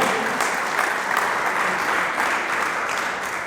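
A church congregation claps together in a sustained, fairly loud round of applause that stays even throughout, with no talk over it.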